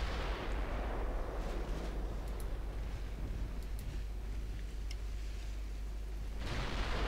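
Battleship secondary guns fire during a naval battle in the Ultimate Admiral Dreadnoughts game, a steady dull rumble of distant gunfire with faint pops scattered through it and no talking.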